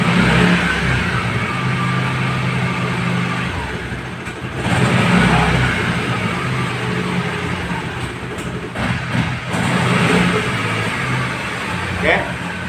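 A repaired Honda CB150R motorcycle engine runs steadily in gear, a continuous close rumble with brief rises in revs, while a person talks over it.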